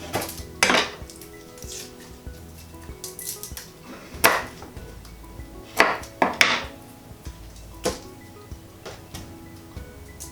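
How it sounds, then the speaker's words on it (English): A knife roughly chops garlic cloves for a vegan lentil bolognese, making a handful of sharp, irregular knocks against the board, close by and spaced out over quiet kitchen background, with no talking. "So garlic roughly chopped."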